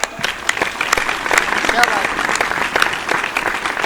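Audience at a Hindi comedy poetry show clapping in scattered, uneven bursts, with a voice speaking over the applause.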